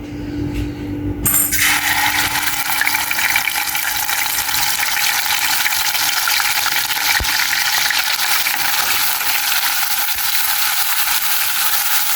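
Chillies frying in a pan for a shrimp paste bitter gourd curry: after a short quieter start, a loud continuous close sizzle and crackle runs throughout, with a faint stirring clink.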